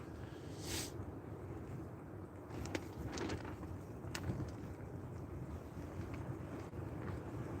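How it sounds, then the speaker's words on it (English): Strong wind roars continuously across a river bank during March carp fishing, buffeting the microphone with steady rushing noise and a few faint knocks. "Looks like the wind is actually getting a lot stronger"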